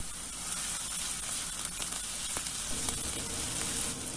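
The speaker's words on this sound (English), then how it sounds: "Add in the onions and the capsicum and cook till the onions and the capsicum become soft." Onions and capsicum sizzling in extra virgin olive oil in a pan, a steady dense frying hiss with occasional stirring scrapes, close and continuous with no talking.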